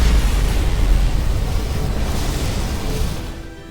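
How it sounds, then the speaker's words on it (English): A dilithium explosion in the Star Trek Resurgence video game roars as a dense, loud, sustained rumble of broadband noise with heavy low end, holding for several seconds and slowly fading near the end. "Dilithium explosion."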